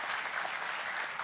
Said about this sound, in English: can we give them one final big round of applause?